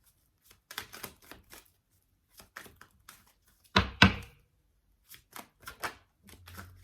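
Tarot cards pulled from a deck during a reading, heard as a few quiet, sparse taps and soft card snaps, with one sharper double slap near the middle, all close and otherwise in near silence.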